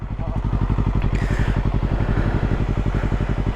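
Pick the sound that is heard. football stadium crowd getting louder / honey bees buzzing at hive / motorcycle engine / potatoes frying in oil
motorcycle engine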